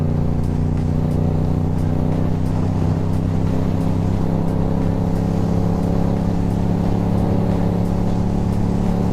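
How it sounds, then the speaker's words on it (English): Harley-Davidson motorcycles pass on the road, producing a loud, continuous low engine rumble with a deep throbbing drone that stays steady throughout, close and alone with no talking. "a lot of Harleys out today"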